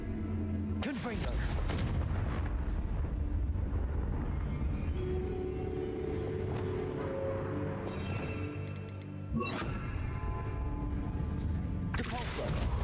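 Confringo fire spells explode in Hogwarts Legacy, with several sharp loud blasts spread across the stretch over continuous combat noise and humming tones.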